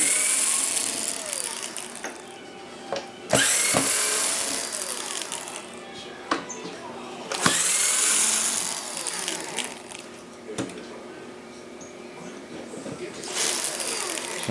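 Screws being removed from the optical block of a Sony SXRD KDS A200 projection TV, with close, repeated ratcheting screwdriver clicks and scraping in uneven bursts, and a faint voice in the background.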